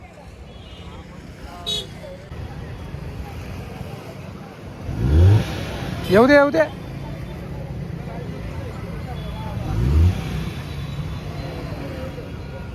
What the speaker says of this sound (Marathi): बघा दाजी आता गाडी काढतायत